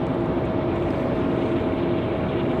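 An Aer Lingus airliner arriving at Raleigh Durham airport produces a steady, broad jet roar with a faint whine running through it, constant in loudness across the short span and with no voices.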